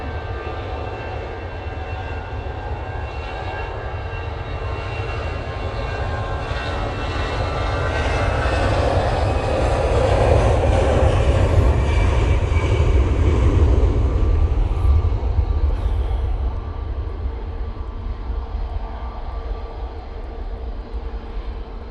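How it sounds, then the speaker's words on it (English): An EasyJet Airbus A320 powers along the runway on its takeoff roll at Manchester Airport on a windy day, a deep engine rumble that builds to a loud peak midway and then eases off, with no speech. "This EasyJet A320 is now on the roll."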